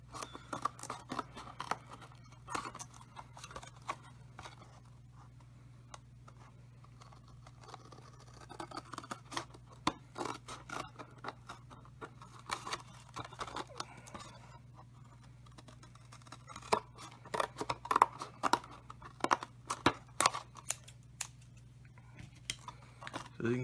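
Scissors snipping through a homemade cardboard deck box, a long run of quiet, irregular cuts and small rustles over a steady low hum, close but soft.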